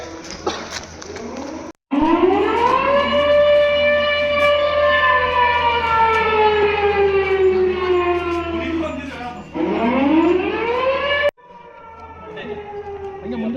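A civil defense air raid siren wails at Halasuru lake in Bengaluru, rising and falling in long sustained sweeps, loud and dominant with a low engine hum beneath and a brief cut partway through.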